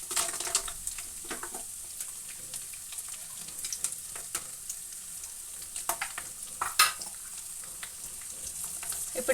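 Cashews frying in hot oil with bay leaf, cloves and cinnamon for coriander rice, a steady soft sizzle with scattered clicks and light stirring scrapes, no voices.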